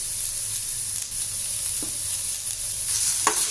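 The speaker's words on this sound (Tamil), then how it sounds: "இதை நல்லா வதக்கணும்" Tomato sautéing in a pan for coconut milk rasam, a steady close sizzle with occasional soft stirring scrapes, no voices.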